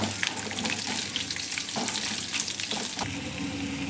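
Garlic with dried red chilli and curry leaves frying in hot oil in a kadai until browned, a steady close sizzle broken by scraping stirs and a few sharper crackles, no voices.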